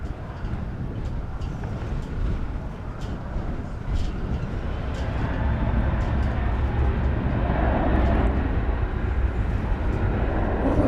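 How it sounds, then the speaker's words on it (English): A Boeing 737-800 airliner, American Flight 1331 bound for Phoenix, takes off at DFW in gusty wind, its broad engine roar building steadily and holding loud and continuous, with wind rumble underneath. "watch American Flight 1331 take to the skies. It's a 737-800 going to Phoenix, Arizona."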